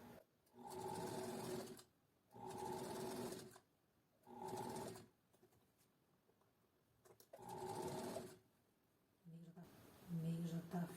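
A sewing machine stitches a neckline seam in four steady whirring runs of about a second each, separated by short pauses, with a voice speaking near the end.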